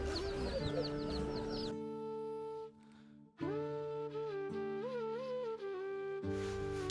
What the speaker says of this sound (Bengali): বাজারের এই অংশে হাঁস মুরগি বিক্রি হয়।